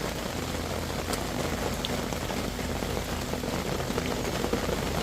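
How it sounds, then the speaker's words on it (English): Steady rain patters on surfaces outdoors at a flintknapping spot in the buttes, a dense, even hiss that runs unbroken for the whole stretch with no voices. "Here comes the rain."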